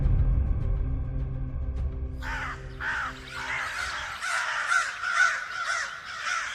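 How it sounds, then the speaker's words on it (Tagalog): Crows cawing in a tree during an outdoor commotion, several harsh calls repeating and overlapping at moderate distance after a low rumbling hum fades out. "Yung mga ibon? Bakit nagkakagulo ng ganun?"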